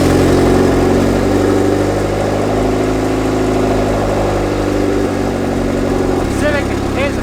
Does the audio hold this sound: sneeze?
no